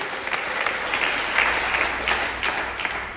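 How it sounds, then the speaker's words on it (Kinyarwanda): A church congregation breaks into sustained clapping. The applause is loud and dense with a slightly rhythmic pulse, and it continues without a break through the whole moment. "Abafite umutabazi mwamukomeye amashyi akanezerwa ari mwiza."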